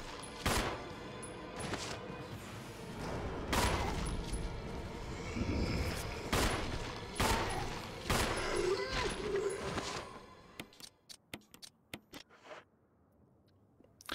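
Gunfire in the video game Resident Evil against a group of enemies, a run of loud, evenly spaced shots for about ten seconds, then sparser clicks and faint shots, with someone talking.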